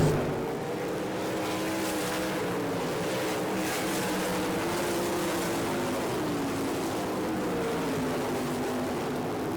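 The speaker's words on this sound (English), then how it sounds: "Tim Allison, Bobby Clark, Dwayne Leiber, and Greg Wilson chasing down leader Ken Walters" Sprint race cars at a dirt track in Rossburg, Ohio, roaring together as the pack chases the leader, a steady loud engine drone with shifting pitch and no pauses throughout.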